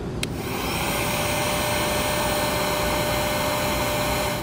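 Heat gun blows steadily on trailer light wiring during an Optronics LED tail light install, a constant loud airy roar with a faint whine that holds unchanged throughout, with no talking.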